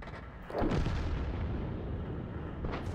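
An enemy GW self-propelled artillery gun fires in World of Tanks, a heavy booming blast over a steady rumbling battlefield background, with a fainter second report near the end.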